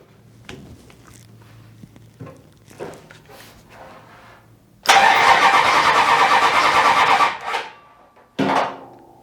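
A starter motor taken from a 1997 Ram 1500 with a 5.9 engine spins a 408 stroker engine for about two and a half seconds of loud, close cranking, then a short second burst, after quieter clunks and handling noises.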